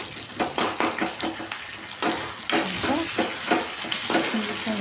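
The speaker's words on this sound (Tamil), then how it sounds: "இந்த வெங்காயம் கொஞ்சம் நல்லா வதங்கிட்டுங்க." Onions sautéing in a pan for mushroom gravy, with steady sizzling under repeated scraping stirs of a spoon against the pan, close and fairly loud, no voices.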